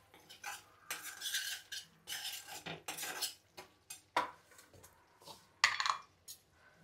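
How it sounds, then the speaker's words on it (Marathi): Spice masala stirred with a metal spoon in a pan, close, quick rhythmic scraping and clinking strokes against the metal, some louder knocks, separated by short pauses, no voices. "हे बघा मसाल्याला आता तेल सुटेपर्यंत चांगलं जरा परतवायचं असं"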